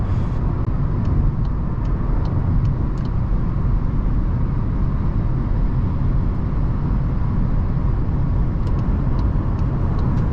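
A 2021 Volkswagen Golf 8 with a 1.0 TSI 110 hp engine accelerates on the road, its engine and road noise forming a steady, loud drone that holds for the whole stretch with no pauses.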